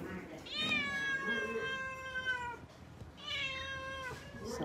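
Newly arrived cats meowing indoors, two long drawn-out meows, the second following after a brief pause, moderately close over a quiet room background.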